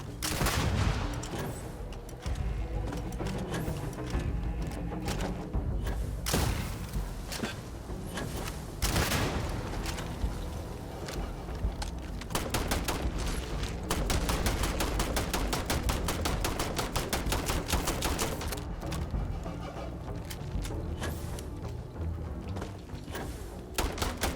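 Heavy gunfire from powerful weapons in the Starfield video game, sustained rapid bursts and volleys of shots crackling loudly for over twenty seconds, with brief lulls between salvos.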